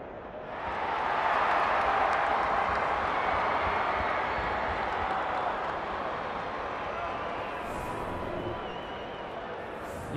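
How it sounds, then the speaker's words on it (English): A stadium crowd in the AFL 23 football video game roars steadily and loudly as the captains meet. The broad, continuous cheering holds throughout. "The crowd already making plenty of noise as the captains come together."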